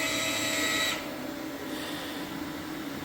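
A hot UV curing machine rolls over a restored wood floor with a steady electrical hum and whine, loudest and brightest in the first second before settling into a lower, even drone.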